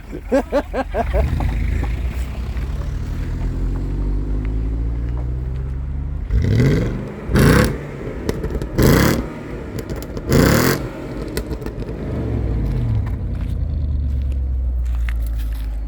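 An Audi A8 4.2 V8 engine rumbles close by, then revs sharply several times in quick bursts before settling back to a deep idle; its exhaust has a rotted-out middle section.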